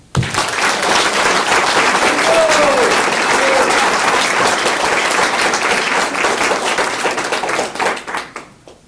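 A crowd at a Lake County Living Legends honoree event applauds in a dense, sustained burst of clapping that swells quickly, holds, then thins out and fades, with a brief voice heard beneath it.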